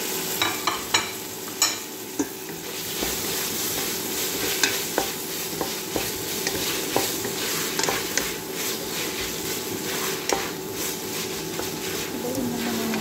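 Tomato paste and tomatoes fry in a pan with a continuous close sizzle, while a utensil stirs and scrapes in irregular taps and clicks.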